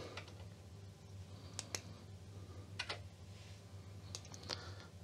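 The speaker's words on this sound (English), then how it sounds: "You actually need to pause it, and then we type run" Keys are typed on a Spectravideo SVI-328 MKII computer keyboard, a few sharp close clicks in small clusters spread over a few seconds, with a low hum underneath and no speech.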